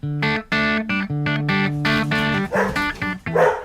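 Several dogs bark in quick, repeated bursts near a house porch, with sharper yips and a brief whimper among them and no talking.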